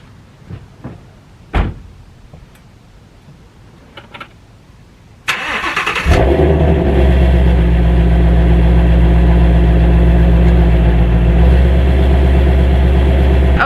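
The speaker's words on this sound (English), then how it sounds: "Let's turn this motherfucker on." A warm Ford Mustang Shelby GT350R in 100-degree heat with its exhaust valves closed: a few soft clicks and a door sound, then the engine cranks and catches with a loud flare before settling into a steady, deep, rumbling idle.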